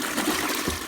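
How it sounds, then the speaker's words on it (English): Water gushes and trickles as a push-button flush toilet on an off-grid Portuguese homestead is flushed, a short burst of rushing liquid. "As you can see, the flush toilet has water in it."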